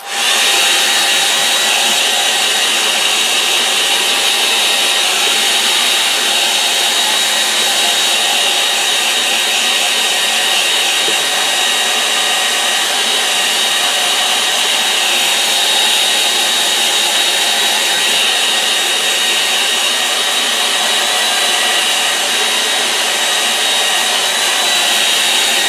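A hair dryer blows hot air over wet acrylic paint on a small woodland painting, its steady loud whine and rushing airflow running unbroken throughout with no voices.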